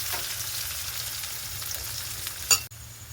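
Chopped large onions frying in a pan give a steady, close sizzle throughout, with a short clatter of stirring near the end.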